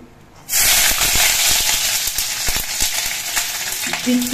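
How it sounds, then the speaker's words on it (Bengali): Garlic cloves dropped into hot mustard oil burst into a loud, sudden sizzle that stays as a bright, steady frying hiss with small crackles, and a faint stirring scrape comes in near the end. "এবার বেশ কিছু উপকরণ আমি এই তেলের মধ্যে দিয়ে ভেজে নেব। আমি প্রথমে কিছু রসুনের কোয়া দিচ্ছি"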